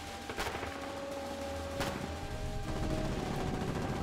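Automatic machine gun fire in the online war game Foxhole, a steady rattling stream of shots with a couple of sharper nearby cracks over a constant battlefield rumble.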